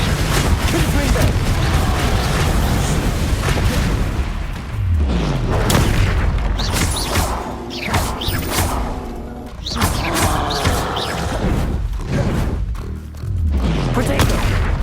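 Confringo blasting spells exploding in the Hogwarts Legacy video game, loud booming blasts and whooshes in rapid succession over continuous battle noise, with a voice shouting during the fight.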